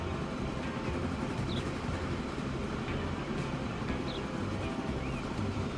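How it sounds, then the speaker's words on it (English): A train rolls along the line in the game Transport Fever 2, a steady rumbling rail noise with faint squeals and clicks, continuous and moderately loud without talk. "The first train is rolling down the line."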